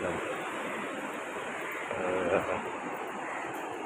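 Sea waves wash onto Arambol beach in Goa on an early morning: a steady, broad rushing surf that swells slightly near the middle, with no voices over it.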